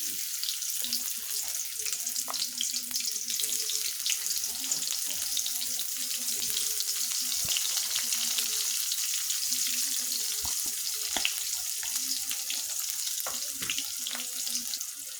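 Chopped onions frying in white cooking oil in a pan, a steady, fairly quiet sizzle running throughout with faint clinks and splashes.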